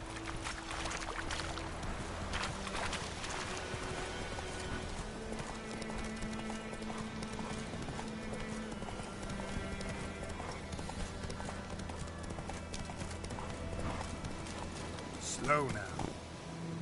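Roach the horse trotting in The Witcher 3, steady clip-clop hoofbeats carried under a dense game music and ambience bed, with the rider's voice heard over it.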